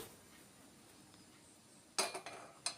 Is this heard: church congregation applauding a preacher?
no